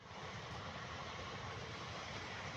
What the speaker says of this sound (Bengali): প্রয়াগ যাচ্ছে ট্রেন।